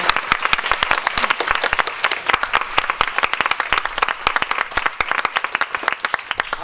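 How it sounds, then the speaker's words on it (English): An audience at a talk on pitching yourself and your work applauds warmly, dense continuous clapping from many hands filling the room without speech. "can we just give a warm round of applause to our guests for being so generous with their knowledge"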